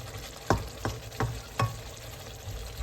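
Mutton curry in a pan, being stirred as it fries with a steady low sizzle and four sharp scraping stir strokes in quick succession, close and with no talking.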